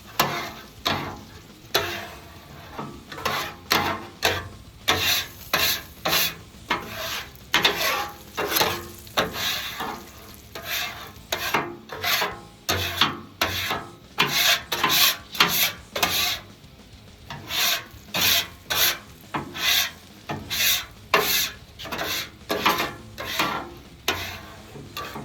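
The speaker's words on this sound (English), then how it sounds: "So I got about all of the food particles or whatever scraped off of here." A Blackstone scraper grates across a hot griddle with the burners still lit, pushing off leftover food bits in a steady run of loud, rhythmic rasping strokes, each followed by brief pauses.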